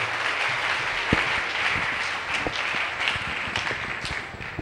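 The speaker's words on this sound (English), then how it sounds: "Clap for Jesus" A church congregation clapping during a Sunday celebration service, a dense sustained round of applause with individual sharp claps standing out, filling the room evenly throughout.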